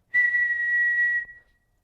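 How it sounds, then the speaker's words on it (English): A person whistles a single steady, pure high tone held for about a second, close and clear, then it cuts off into silence. "if I was to whistle again"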